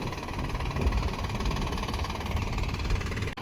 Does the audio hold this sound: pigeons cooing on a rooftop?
no